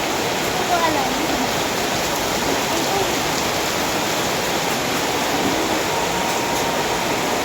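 Steady, loud downpour of heavy rain, a dense continuous hiss with no break throughout.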